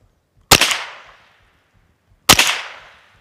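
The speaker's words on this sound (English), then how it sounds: "Okay, that's your 5 shots, and you went empty." Two sharp, loud rifle shots from a Ruger American rifle at an outdoor shooting range, spaced about two seconds apart, each a crisp crack followed by a fading echo, with quiet between them and no talking.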